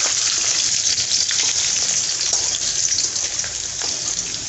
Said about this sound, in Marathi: आपण हे जे शेंगदाणे घेतलेत ना ते ह्याच्यामध्ये टाकायचं, म्हणजे ते पण तेलामध्ये छान परतून निघतात